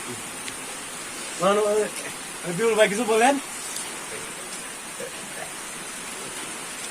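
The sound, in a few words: rain falling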